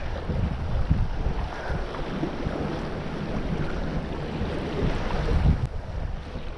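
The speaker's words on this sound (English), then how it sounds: "Riding the waves back home." A fishing boat runs across choppy waves on a lake, a constant rushing roar of hull slap, spray and heavy wind buffeting the microphone throughout.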